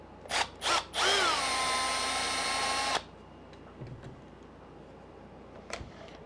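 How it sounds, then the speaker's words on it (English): A brushless power drill working on an ARRMA Kraton 6s remote-control car gives two short bursts, then spins up and runs steadily for about two seconds before cutting off, followed by faint handling noises. "That's why the drill is not wanting to. It's the difference in power drills."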